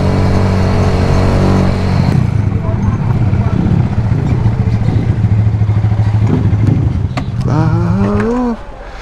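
A motorbike is ridden on a road near Temple Hall and runs sluggishly, with a loud, steady engine drone close by. Wind rushes throughout, and a voice calls out near the end.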